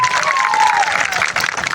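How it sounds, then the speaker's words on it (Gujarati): A large crowd at a political rally in Khakhrala claps loudly, a dense burst of applause with a voice briefly carrying over it. "મનીષભાઈ સિસોદિયા માત્ર મિત્રો એકવાર જોરદાર તાળીઓ આપી."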